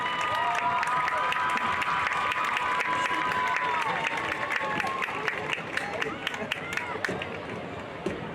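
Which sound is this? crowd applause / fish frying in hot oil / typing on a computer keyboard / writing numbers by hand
crowd applause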